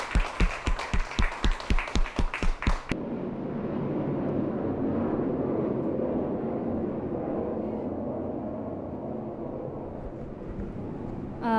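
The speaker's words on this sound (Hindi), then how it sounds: "सभी के लिए ज़ोरदार ताली।" A few seconds of steady rhythmic clapping, then a dense, sustained wash of crowd applause that continues evenly to the end.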